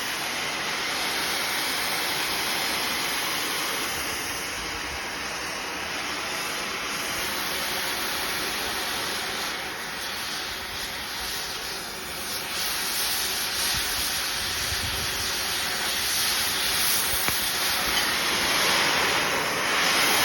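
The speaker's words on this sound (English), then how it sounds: "It's very good for cutting when the flame is about that size." A gas cutting torch burns on a steel-working job, giving off a continuous loud roaring hiss that stays fairly even throughout with no voices.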